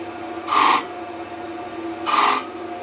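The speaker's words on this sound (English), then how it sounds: "I'm just going to do a series of V cuts now, so these are your slicing cuts" A carving knife or skew slices V cuts into wood, giving two separate short raspy strokes about a second and a half apart, close and fairly loud over a steady faint background hum.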